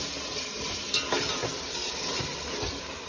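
Onion, tomato, curd and ground masala fry in butter in a pan for a butter palak chicken biryani, giving a steady close sizzle with a few soft stirring scrapes throughout.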